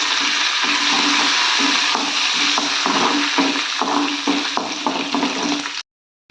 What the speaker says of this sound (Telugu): చూడండి కొంచెం కరివేపాకు వేస్తున్నాను